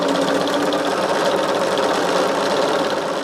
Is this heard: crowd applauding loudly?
no